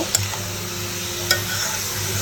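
Carrots and mixed vegetables frying in a pan, a continuous even sizzle with two sharp spatula taps, close and steady with no talk.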